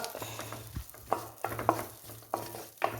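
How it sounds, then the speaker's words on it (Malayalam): Salt being stirred into melted butter with curry leaves in a pan for butter chicken: a spoon scrapes and knocks in repeated strokes over a soft sizzle, fairly close and without talk. "ഇനി ഒന്ന് ഇച്ചിരി ഉപ്പിട്ട് ഇളക്കി കൊടുക്കാം"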